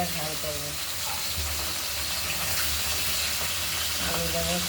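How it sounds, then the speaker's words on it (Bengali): Bata fish coated in turmeric frying in a pan, a steady broad sizzle running throughout at even loudness, with a few faint clinks and a voice talking briefly near the start and end. "বাটা মাছগুলো হলুদ মাখিয়ে ভেজে নিচ্ছি"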